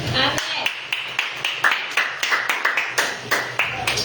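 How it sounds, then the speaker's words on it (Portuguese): A church congregation claps along in worship, sharp, evenly spaced claps in a quick steady rhythm beneath voices singing and speaking. "E as palmas louvam o nome do Senhor"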